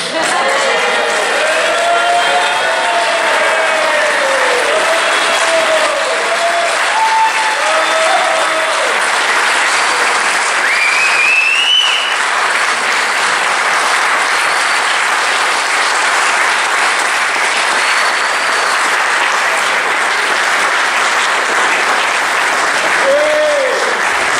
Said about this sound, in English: Ladies, please stand and give her a round of applause.